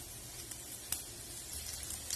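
Garlic sizzling in hot oil for a broccoli poriyal, a steady, soft crackling hiss with a few brief pops, close and alone.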